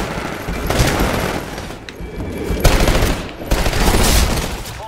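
Gunfire in the Titanfall video game: dense, loud bursts of rapid automatic fire in several long volleys, with brief lulls between them.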